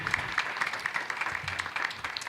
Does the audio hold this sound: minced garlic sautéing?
no